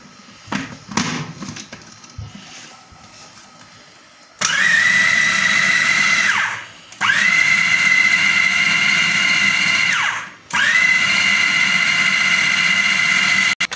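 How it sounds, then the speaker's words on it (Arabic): A loud motorized blender minces chicken breast in three long bursts, each winding down briefly between runs, after some faint handling clatter at the start. "ضربتها في الخلاط اهي"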